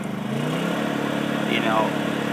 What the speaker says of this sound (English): if I turn it to the right and turn it off, the engine will speed up